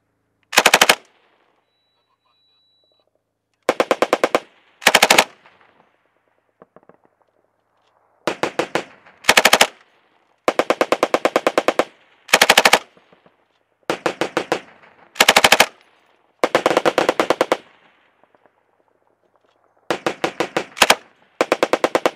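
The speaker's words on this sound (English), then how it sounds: "Gunfire." Machine gun fire from US Marines in Kajaki, Helmand, Afghanistan: about a dozen loud, close bursts of rapid shots, each lasting a second or less, separated by short quiet gaps. No voices.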